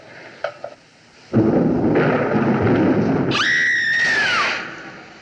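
A loud rumbling thunder crash during a storm in a 1940 mystery film set in a wax museum, preceded by faint clicks, rolling on for several seconds with a sharp high screech over it before fading.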